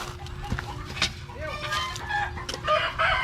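Chickens cluck and a rooster crows in a rural farmyard, fairly close and mixed with background chatter and outdoor noise; people talk nearby.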